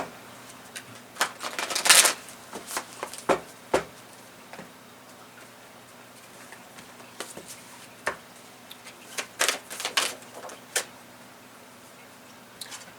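Tarot cards shuffled by hand during a love reading, heard as brisk, close papery riffles and taps in irregular bursts, the loudest around the two-second mark, with no talking.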